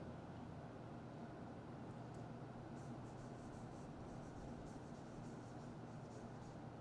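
Faint scratchy strokes of writing a sentence on a board, soft intermittent rubbing over a steady hum of room noise, with no talking.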